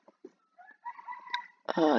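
A rooster crowing in the morning, a drawn-out call rising and holding near the end after a few faint clucks and soft background noises, moderately close.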